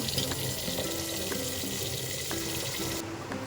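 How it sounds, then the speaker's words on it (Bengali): Tap water runs steadily into a sink while rice is washed, a continuous close splashing flow with faint clinks of grains and bowl, no talking. "এবার চাল ধুয়ে নেব"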